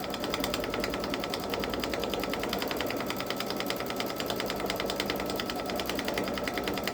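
Babylock Solaris Vision embroidery sewing machine stitching an edge-to-edge quilting pattern on a turtle seascape panel, a steady rapid needle chatter with a fine rhythmic pulse, loud and continuous throughout with no talking.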